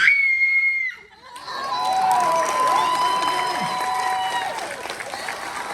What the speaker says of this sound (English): best blood-curdling horror film scream